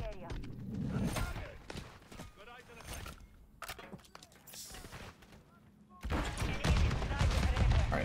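Grenade explosions and gunfire in Modern Warfare 3: repeated booming blasts and sharp shots burst in irregular clusters, with a heavy roar of explosions near the end, while a voice talks over the chaos.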